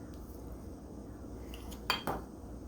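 Baking soda spooned into a small bowl for homemade eggshell toothpaste, heard as two quick metallic clinks of spoon against bowl close by over a low steady background hiss, with no talking.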